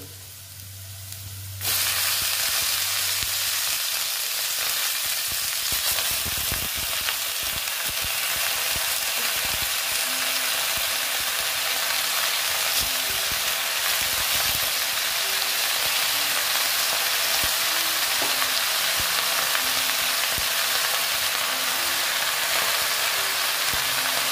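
Bottle gourd greens drop onto frying potatoes in a pan, setting off a loud, steady hiss of sizzling oil that continues unbroken, with faint stirring scrapes underneath.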